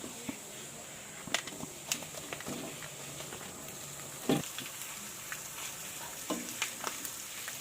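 Boiled chicken added to fried onions in a pan, frying with a steady sizzle while a utensil scrapes and stirs in scattered knocks, close and moderately loud, with no talking.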